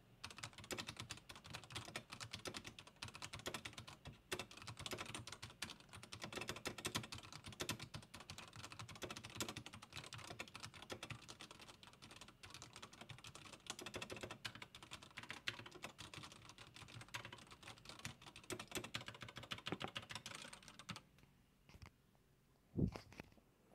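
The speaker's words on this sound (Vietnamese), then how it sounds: "thì đó là cái tiếng mà gõ phím trên phiên bản Alco Pin" Rapid, continuous typing on an Akko mechanical keyboard with non-clicky switches, recorded with the mic right beside it; dense clacking keystrokes run steadily before a few isolated presses and a final louder tap.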